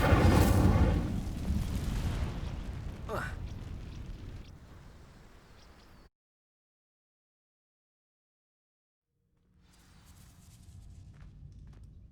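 Casting Incendio in Hogwarts Legacy sets dry vines ablaze with a loud whooshing fire burst and a crackling sweep that fades out, followed by silence and then quiet ambient rumble.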